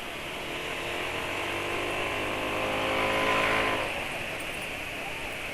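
A Honda PCX 160 scooter engine runs roughly, a steady droning motor that swells in loudness near the middle, then eases back, with a voice heard faintly nearby.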